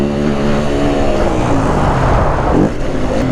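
A dirt bike roars loudly past on a dusty motocross track in Mont-Laurier, engine harmonics sweeping as it goes by over steady wind and engine noise.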